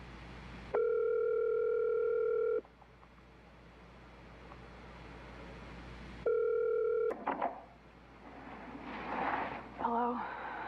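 Telephone rings in a dark horror setting, two long steady electronic tones separated by a silent gap, loud and close, followed by clatter and rustling as the call is picked up.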